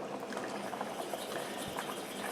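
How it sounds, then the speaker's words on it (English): Water pours into Alfredo sauce simmering in a pan, giving a steady, dense hiss of liquid and bubbling that stays even and moderately loud throughout, with no talking. "I'm going to add the rest of the water."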